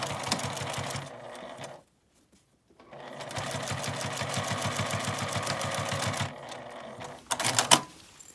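A sewing machine edge-stitches the turned-in seam allowance of a lined zipper pouch's turning opening: a quick, even rattling run, a short pause, a longer steady run, then one brief final burst.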